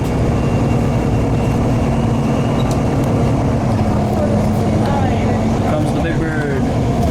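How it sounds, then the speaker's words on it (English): A loud, steady jet engine roar with a constant whine drones close by, the big airliner taxiing slowly nearer without fading, at Toronto Pearson airport. "here's the plane coming towards us."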